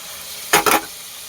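Chicken sizzling in a pan with ginger paste is stirred in two quick scraping bursts, loud and close, after which only a faint background hiss remains.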